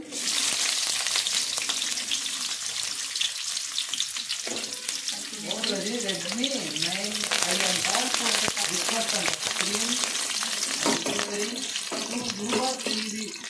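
Loud, continuous sizzling of onions frying in hot oil with tempering seeds, with a wavering hum from a stove or fan and occasional stirring scrapes.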